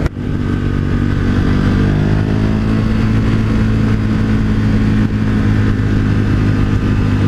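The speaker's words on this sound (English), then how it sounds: "Oh, this is a thumper. That low rumble." A 2018 KTM 1290 Super Duke motorcycle rumbling along at a steady low pitch, its deep engine drone loud and close and continuous with no speech.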